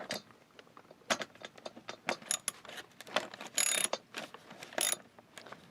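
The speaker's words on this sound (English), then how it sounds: "I just have to take out a couple of bolts. And I'm going to be using a 10mm socket." A socket ratchet loosens the 10mm cover bolts on a Ford Fusion during an oil change, with close, quiet bursts of rapid clicking and metallic ratcheting, a few louder pulls scattered across the stretch, and no voices.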